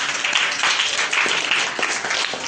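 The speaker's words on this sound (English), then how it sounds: "It's a round of applause." A short burst of steady applause from an audience at a club demonstration day, many hands clapping together at a fairly even level.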